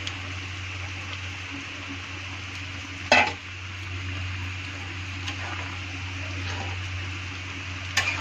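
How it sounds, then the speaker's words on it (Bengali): Fried cauliflower goes into a hot pan and sizzles steadily under a constant background hum, with a sharp clatter of a utensil against the pan and a few lighter scrapes of stirring. "এখন আমি এই ভাজা ফুলকপিটার এর মধ্যে ছেড়ে দিচ্ছি।"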